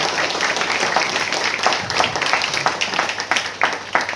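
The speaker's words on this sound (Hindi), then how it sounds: "ताली बजाने का माना तो अच्छे से बजा लीजिए" A seminar audience at a marketing-plan talk claps together in a lively, continuous round of distinct hand claps, moderately loud and close, with no speech over it.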